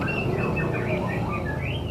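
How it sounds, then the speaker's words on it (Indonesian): Caged pet birds sing outdoors on a street in a Betawi-style neighbourhood, their chirps and trills overlapping continuously over a dull background hum. "banyak yang pelihara burung nih, dikeluarin semua supaya burungnya bunyi."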